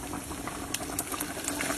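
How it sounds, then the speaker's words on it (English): Rendered pork or turkey bacon fat sizzling in a pot while making collard greens, a steady bright crackling hiss with small pops throughout, close and fairly loud with no voices. "you hear that sizzle? You know it's about to be good."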